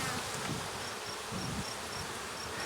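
A dense, steady hum of honey bees fills an open hive, close and continuous with no voices.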